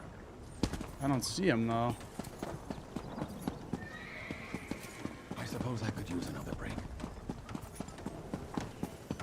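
Horses in The Elder Scrolls Online clip-clop in a steady rhythm of hoof beats, with a loud, clear whinny near the start, while a voice talks over the sounds.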